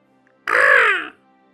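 A single loud, harsh caw from a nearby crow, clear and alone against near silence.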